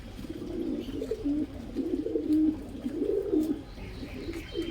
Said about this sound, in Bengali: এগুলো আমার পায়রা, বাড়ির পায়রা।